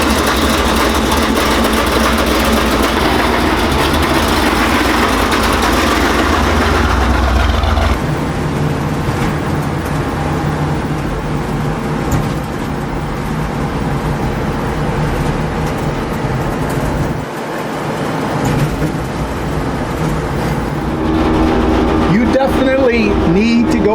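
A giveaway gas car's engine runs steadily as it drives, a continuous motor drone heard from inside the car with a shift in tone partway through.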